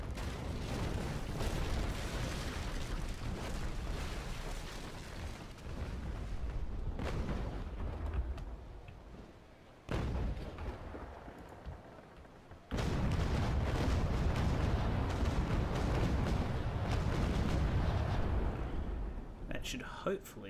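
Ship cannon fire in the naval battle game Naval Action, a sustained roaring barrage broken by sharp booms and brief drops before the rumble resumes loudly.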